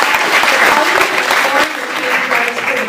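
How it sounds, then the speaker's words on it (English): Audience applause at an arts education event, dense continuous clapping from a full room, loud and sustained, with some voices mixed into the crowd noise. "give yourselves a round of applause for being advocates for the arts"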